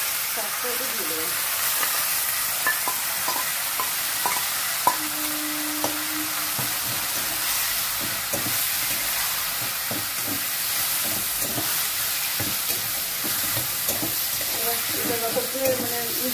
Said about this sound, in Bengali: একটুখানি নাড়াচাড়া হলে শাক রান্না কমপ্লিট